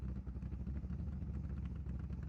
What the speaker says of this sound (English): The engine sounds special, I want to say.